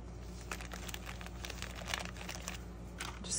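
Paper cut-outs rustle and crinkle as a hand pulls a handful of red and blue fussy-cut pieces out of a plastic bag, a steady close, quiet crackling with a few sharper crunches and no talk.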